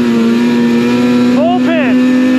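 A snowmobile engine, recently repaired, drones steadily at idle, loud and close, then a voice is heard talking over it as the pitch begins to swing briefly.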